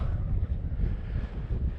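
Steady low rumble of wind buffeting the microphone, continuous and fairly loud throughout, with no voices.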